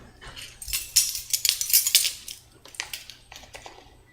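Metal measuring spoon clinking and scraping against a dry mixing bowl while ground cinnamon is added; a rapid cluster of light bright taps and rattles, busiest in the middle, then a few scattered clicks.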